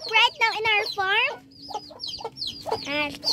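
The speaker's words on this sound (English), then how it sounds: "we are in the chicken coop right now in our farm." Chickens clucking inside a farm chicken coop, a rapid series of close, loud squawks and calls with short pauses between bursts, no voices over them.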